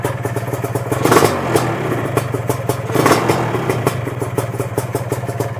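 Two-stroke engine with a blown seal running rough as it warms up at idle, a close, loud, rattling putter with two brief swells in revs and clattery mechanical noise, with no speech.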